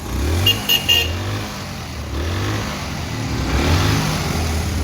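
An old Japanese motorcycle, a second-hand Honda or Yamaha type, idling and revving in a few rising and falling bursts, close by, with a brief high beep near the start and no talking.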